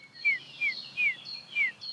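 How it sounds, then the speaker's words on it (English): A bullfinch gives four soft, short whistled calls at a steady pace against a quiet background at Lake Constance. "A bullfinch. We have very few of them now."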